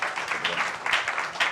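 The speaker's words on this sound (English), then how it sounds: "we do owe Sean a round of applause" An audience at a live tech-week pitch roast event in New York applauds for Sean, a brief burst of crowd clapping rising and falling in short swells.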